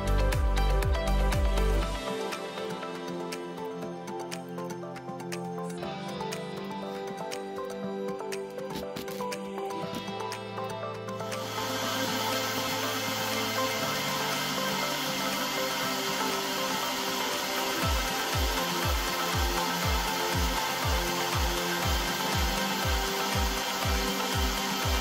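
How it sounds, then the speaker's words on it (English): Small MiniMill CNC router cutting grooves into MDF stamps with a V90 engraving bit, a steady whining, grinding drone running throughout with a rhythmic pulsing thump in the last several seconds, no talking. "Now it was time to mount the V90 bit and start degrooving some stamps."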